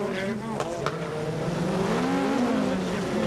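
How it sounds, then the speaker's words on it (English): Rally car, a Peugeot 205 or Lancia Delta, revving hard and shifting up through the gears on a greasy gravel circuit, engine pitch climbing and dropping in quick steps, loud and near, with a commentator talking over it. "Heel and toe as he rips through the gears"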